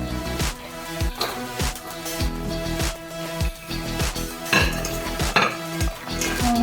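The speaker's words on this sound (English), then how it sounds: "let's mix all the ingredients" Samsa filling of beef and kidney fat stirred in a bowl, a steady rhythm of close scraping strokes and clinks of the utensil against the bowl's side, with no talking.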